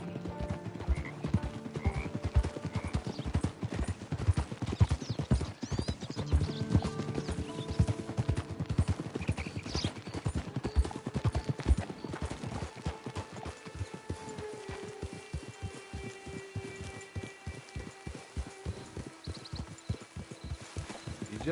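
Horse hooves clip-clop steadily in Red Dead Redemption 2, a close, rhythmic trotting gait that quickens into a dense run of even hoofbeats toward the end, with occasional whinnies and ambient game sounds around it.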